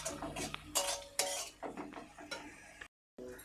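Spoon stirring and scraping food in a cooking pan with soy sauce, green chillies and long beans, a series of close metallic clinks and scrapes in uneven rhythm, fairly quiet, no talk.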